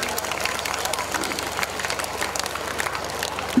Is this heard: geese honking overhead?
no